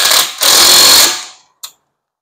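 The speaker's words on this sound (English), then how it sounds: "Make sure with the ratchet you tighten it good." Ratchet turning a brake bolt on a Hyundai Sonata, one loud rapid buzzing burst of about a second that fades out, then a short click, close and alone.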